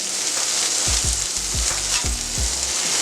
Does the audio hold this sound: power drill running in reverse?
no